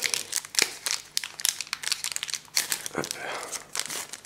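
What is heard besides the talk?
opening a Pokémon card booster pack wrapper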